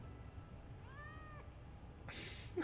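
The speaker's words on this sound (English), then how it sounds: "he's a kitty cat" A cat meows once in Final Fantasy VII Remake, a short rising-falling cry against quiet game ambience, followed by a brief burst of noise near the end.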